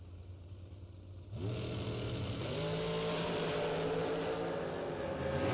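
A drag racing car at a drag strip event sits at a low rumble, then launches down the strip with a sudden loud engine roar that holds and climbs steadily, with no voices.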